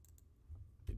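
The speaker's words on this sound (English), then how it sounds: "And I'll press U on the keyboard." A few soft, isolated key clicks sound quietly against a near-silent background, ending with one slightly louder tap.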